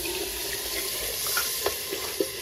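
Water running steadily in a home kitchen, a continuous splashing hiss with a few soft clinks and drips, close and moderately loud.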